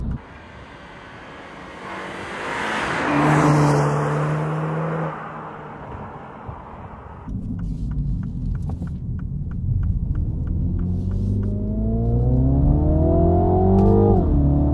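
A 2022 Mini Cooper JCW engine revs hard through the gears, with the pitch climbing and then dropping sharply at each fast shift, followed by a crackle and another rising pull. The engine sounds close and loud, with no talk.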